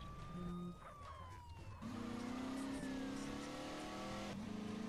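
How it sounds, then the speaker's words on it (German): A Dodge Charger revving hard in GTA San Andreas, its engine pitch climbing and shifting as the car accelerates, with a siren-like wail and other traffic in the background. "Wir haben hier aber einen Dodge Charger, der geht ordentlich."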